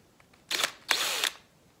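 A hand drill bores into cedar obelisk legs in two short close bursts, the motor whining up and stopping each time, with quiet pauses around them.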